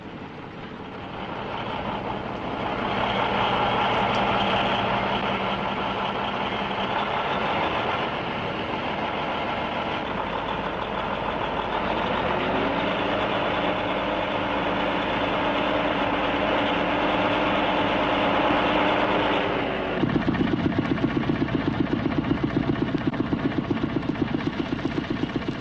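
Heavy diesel engine of a cement lorry hauling loads up to a dam site, a steady loud droning rumble that holds for about twenty seconds, then shifts to a rougher, coarser throb near the end.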